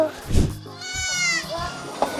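A goat bleats close by in a wavering, quavering call lasting about a second, with people speaking around it and some handling noise.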